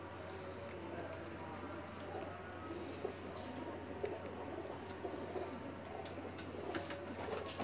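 Pet pigeons in Jeddah give soft, low cooing calls that repeat in gentle rounds against a steady background hum. People talk quietly nearby.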